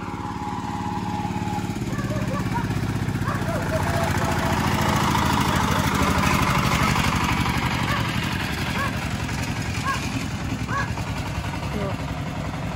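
A tractor engine runs steadily on a road in Moldova's second-largest city, a loud, continuous mid-pitched chug that swells slightly toward the middle before easing.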